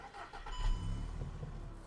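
A 2008 Volkswagen Golf 5 with a 1.6 MPI petrol engine cranks briefly and catches, settling into a low, even idle at close range.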